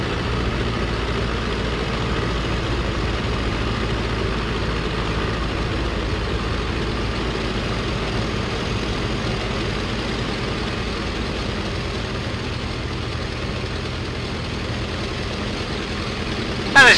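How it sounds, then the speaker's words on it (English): A Tiger Moth biplane engine in Microsoft Flight Simulator settles at idle around 700 RPM, a steady low rumbling drone that holds evenly throughout, with a brief louder bump at the very end. "We'll come all the way back to idle power."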